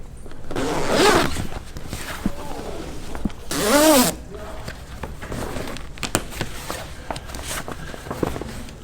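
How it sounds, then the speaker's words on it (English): Zipper pulled open on a canvas boat cover for an Everglades 273 boat, two loud, rasping zips about three seconds apart, followed by softer rustling and handling of the fabric. "Now I'm going to start this zipper."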